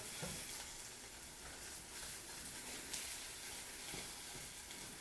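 An egg omelet frying in a pan gives off a steady, close sizzle, a continuous bright hiss with occasional louder crackles and no voices.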